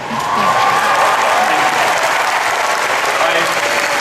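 Loud, dense applause from a packed audience at a Comic Con panel for Wolverine and X-Men, a continuous roar of clapping with voices mixed in throughout.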